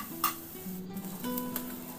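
Ginger and garlic fry in a pan for egg fried rice, a light sizzle with spoon scrapes and a couple of sharp metallic clinks against the pan.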